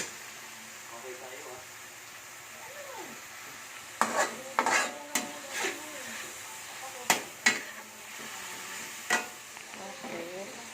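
A spoon stirs spaghetti sauce with ground meat cooking in a pan, with intermittent scraping clacks against the pan over a soft sizzle while someone talks in between.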